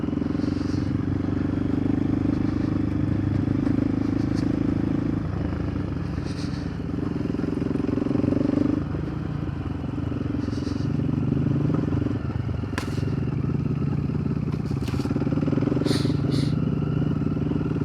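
A motorcycle ridden on a road, its engine droning steadily and loud throughout with wind rush and occasional clatter, speech briefly audible under the noise.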